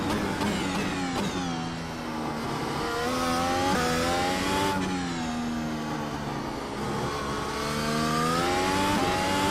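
Race car in Project Gotham Racing driven fast on soft tires, engine note loud and continuous with rising and falling pitch through gear changes, alone without any voices.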